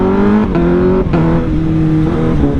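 Engine note of a 2018 Honda CBR 1000RR sport bike, loud and close, with a steady harmonic drone that climbs in pitch through a few gear changes, no talking over it.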